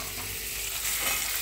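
Paneer pieces frying lightly in hot oil, a dense, even sizzle close by, with no talking.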